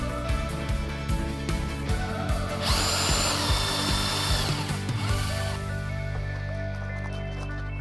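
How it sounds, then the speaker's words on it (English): A power drill drives screws into a fan bracket on a DIY teardrop camper trailer. One sustained whir of about three seconds rises out of steady background noise, with no talking. "I'm just going to continue to drill holes and put in screws."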